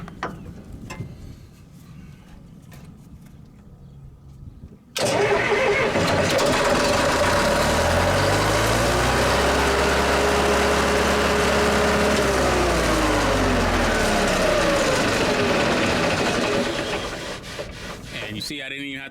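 A Caterpillar 941 loader engine starts after a quiet stretch, catching abruptly and settling into a loud, steady diesel idle with a throbbing low rumble that holds for over ten seconds before easing slightly.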